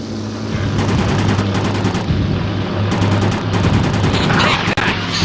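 Rockets and guns fire in the Beyond Pearl Harbor aerial combat video game, loud rapid bursts of rattling fire over a droning aircraft engine, with repeated volleys close up.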